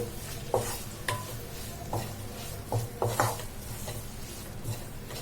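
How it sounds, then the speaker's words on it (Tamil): A spoon works through egg masala with curry leaves in a pan, making rhythmic scraping strokes about every half second to second over a soft, continuous sizzle. "இது எல்லாத்தையும் நல்லா மிக்ஸ் பண்ணிடலாம்."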